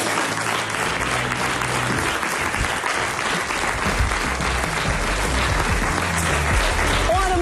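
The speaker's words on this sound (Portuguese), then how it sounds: "Um grande aplauso." Studio audience at a Portuguese television talk show breaks into sustained, loud applause, a dense wash of clapping hands that holds steady for the whole stretch without letting up.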